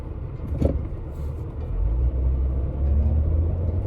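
Car interior road rumble, a steady low drone of tyres and engine heard from inside the cabin while driving, with a brief bump near the start and no talking.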